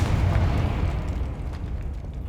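A Confringo explosion spell bursts in the Hogwarts Legacy video game, a dense low boom that rumbles steadily across the whole stretch without fading much.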